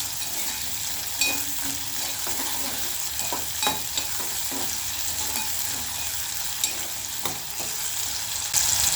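Onions and four or five garlic cloves frying for a spinach fry: a steady, close sizzle broken by irregular clicks and scrapes of stirring, with no talking.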